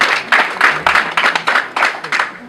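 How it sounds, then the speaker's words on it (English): A ceremony audience gives a round of applause, heard as a series of loud, rhythmic bursts of group clapping, fairly close and sounding alone without speech. "Round of applause, please"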